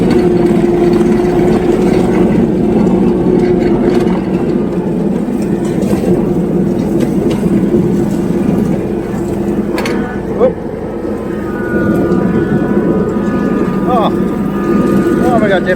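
A Canycom Razorback tracked utility vehicle drives through long grass, its engine droning steadily with a constant mechanical hum and occasional knocks while someone talks over it.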